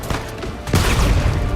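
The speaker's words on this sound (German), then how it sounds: "Ich weiß nicht, wer oder was da auf mich schießt." Gunfire in the game Uncharted 4 crackles in a dense, rapid burst, with a single sharp shot first and then a heavier, sustained volley of overlapping shots.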